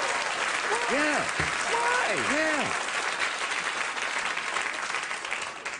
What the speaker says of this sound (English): Why did they applaud so long?